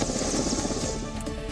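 Loud, steady helicopter rotor and engine roar during a paratrooper rope descent drill, heard close with no talking.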